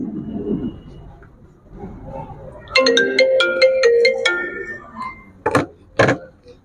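A mobile phone ringtone plays a bright, repeating electronic melody at close range for a couple of seconds, followed by two short sharp tones, with a murmur of voices before it starts.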